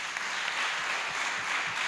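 Audience applause at a International Women's Day celebration in a town hall in Benin, a steady wash of clapping from a crowd heard at moderate distance throughout.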